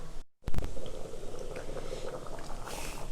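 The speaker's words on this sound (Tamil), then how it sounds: "காய் நல்லா வெந்துருச்சு, நல்லா கொதிச்சு வருது" Chow chow (chayote) sambar bubbles in a pot after a brief clatter near the start, followed by a steady, close, gurgling simmer with soft pops and squishy bursts.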